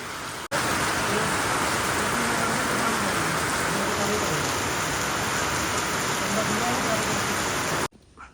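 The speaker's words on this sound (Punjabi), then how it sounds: "ਕਿਉਂਕਿ ਮੀਂਹ ਟੇਡਾ ਪਿਆ ਇੱਧਰ ਨੂੰ ਪੈਂਦਾ ਉਹ ਬਾਛਣ ਦਾ ਮੀਂਹ ਸਾਰਾ ਅੰਦਰ ਜਾਣਾ ਪਿਆ" Slanting rain falls outside, blowing in through an open room, a dense, even hiss of drops on surfaces that starts abruptly and stays loud and unbroken, then cuts off near the end.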